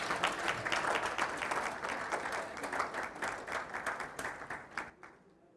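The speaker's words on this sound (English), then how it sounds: "Does that call for a hand of applause" Audience applause at a school event, a steady dense patter of many hands clapping at moderate distance, tapering off and fading out near the end.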